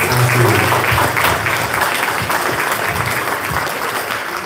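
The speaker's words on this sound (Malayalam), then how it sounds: "എല്ലാവരും കൈയടിച്ച്" A congregation in a church claps in sustained, dense applause that holds steady for several seconds.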